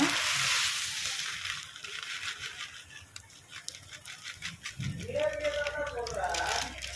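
Vermicelli frying in ghee until brown for a Chettinad wedding-style sweet semiya, a close, continuous sizzle with light rattling stirs, while a voice talks over it.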